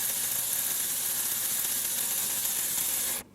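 A Sealey CP1202 cordless 3/8 ratchet fitted with an adapter and a 7mm socket buzzes continuously at close range, with a fast mechanical whirr that cuts off abruptly at the end.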